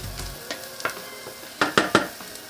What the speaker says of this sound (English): gonna caramelize the onion first before we add the other ingredients.